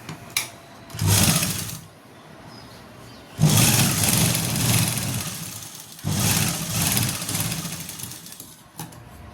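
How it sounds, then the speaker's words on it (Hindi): Sewing machine stitching a side pocket onto a pair of pants, heard in three loud bursts of steady whirring motor noise separated by short pauses, up close with no talking. "उसके बाद आपको यहाँ से भी आपको सिलाई लगानी है, जिससे ये अपनी जगह पे टिका है।"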